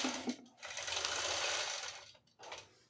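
Longarm quilting machine stitching in rapid, steady bursts, with a brief pause before it starts again.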